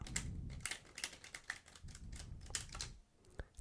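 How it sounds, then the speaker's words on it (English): Close, quiet riffle shuffle of a deck of playing cards: a rapid flutter of clicking card edges in bursts, then a soft final slap. "And that there is the riffle shuffle."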